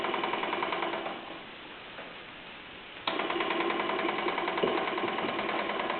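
A 1963 Mamod TE1 toy steam engine runs close by with a fast, steady mechanical chatter and ticking, softening briefly midway before returning at full level.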